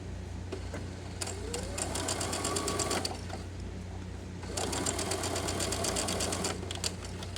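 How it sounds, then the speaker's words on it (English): A sewing machine stitching binding closed on a cut-and-sew garment, running in close, rapid bursts with a brief pause between them and a low mechanical hum underneath; no talking. "we're just going to connect from where we started sewing, where we stopped sewing, all the way up to where we started sewing."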